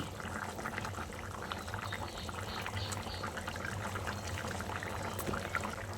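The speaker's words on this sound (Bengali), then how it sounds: "ডিমের যে বড়াগুলো তৈরি করে রেখেছিলাম সেগুলো এখানে একে একে দিয়ে দিচ্ছি" Fried egg fritters are dropped one by one into a simmering potato curry, which bubbles and burbles softly and steadily throughout, with small wet plops and faint stirring, quiet and close.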